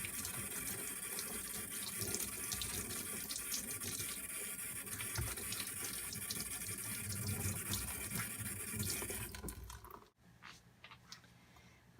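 Running tap water pours steadily over a soaped rubber piece cut from an inner tire tube, with faint rubbing and splashing, before the flow cuts off near the end.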